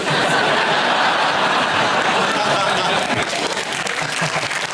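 Studio audience applause from a British comedy panel show, dense and steady throughout, with a few chuckles mixed in and no talk over it.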